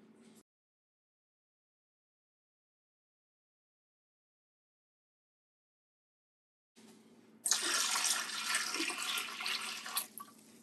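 Water runs from a tap into a canner being prepared for canning pinto beans, starting abruptly after a long silence as a loud, close, rushing splash that continues steadily to the end.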